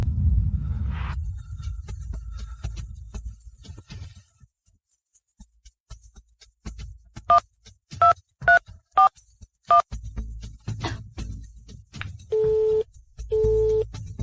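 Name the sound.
telephone number being dialed, DTMF tones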